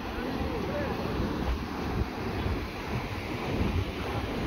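Sea wind and surf roll in at a beach near a lighthouse at night, forming a continuous, loud rushing roar with wind buffeting the microphone and no distinct breaks.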